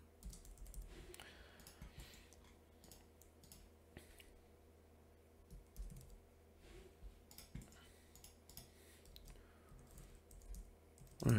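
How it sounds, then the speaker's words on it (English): Soft keyboard typing clicks patter irregularly in quiet bursts, close by, over a faint steady hum. "Forgive the typing."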